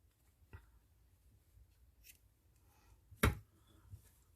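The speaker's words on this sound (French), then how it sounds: "couper mon fil" Scissors snip through crochet yarn once in a sharp, close cut, with a few faint handling taps and rustles before and after in a quiet room.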